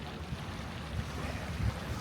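Ocean waves wash steadily onto a beach in France, a continuous low roar mixed with gusty wind buffeting the microphone, with no voices.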